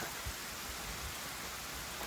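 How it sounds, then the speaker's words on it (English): Rain falls steadily on a camping tent along the Appalachian Trail, a dense, even hiss of drops pattering close on the fabric with no voices. "Glad to see the rain is cooling things off a little bit."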